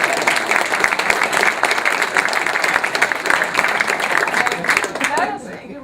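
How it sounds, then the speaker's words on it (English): A lecture audience applauds steadily and loudly for several seconds, a dense wash of many hands clapping that tapers off at the end. "How about a round of applause for the taxpayers?"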